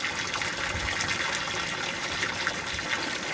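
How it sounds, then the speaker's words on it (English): An aquaponics bell siphon draining water, a steady, gushing, gurgling flow heard close and fairly quiet, with no talking. "I love watching the automatic siphon works."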